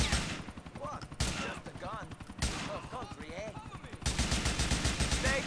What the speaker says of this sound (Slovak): Ja strieľam do tej trubky predo mnou.